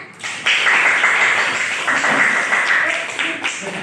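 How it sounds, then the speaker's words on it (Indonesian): Students at a junior high school clap their hands together in a classroom, a dense, continuous burst of applause lasting a few seconds, close and loud, with some voices mixed in. "Tepuk tangan."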